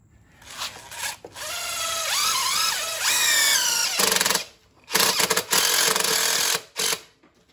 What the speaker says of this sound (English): Just gonna take some screws and screw it onto here.